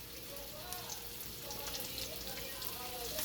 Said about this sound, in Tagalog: Ngayon, igisa natin konti yung sibuyas niya.